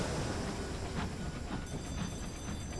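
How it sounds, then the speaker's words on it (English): Trains arrive in the video game Sunless Sea, heard as a steady, dense rumble with a faint rhythmic clatter and no voices. "The sound of trains coming in"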